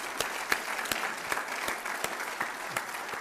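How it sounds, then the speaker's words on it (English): Applause from the audience at a college state-of-the-college address, a steady scattered clapping from a modest crowd with distinct individual claps standing out and no talking. "So please help me applaud Trustee Burke, who's here."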